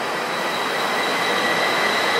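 A train rumbles steadily nearby as it arrives at a station, with broadband rolling noise and a faint high squeal, continuous and fairly loud, no voices.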